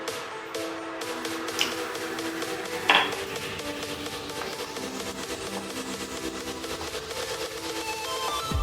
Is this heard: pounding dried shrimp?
yes